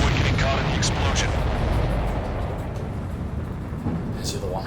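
A supply ship explodes in the Ace Combat 7 flight game, heard as a dense, rumbling wall of low blast noise that rolls on loudly for several seconds and slowly eases off.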